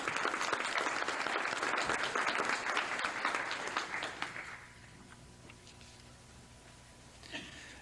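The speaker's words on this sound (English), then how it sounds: "We have a round of applause for them." A 1976 gathering in Stevens Point for Cardinal Karol Wojtyla's visit, with a crowd applauding steadily and densely for about four seconds before it fades out, leaving quiet room tone and one faint late clap.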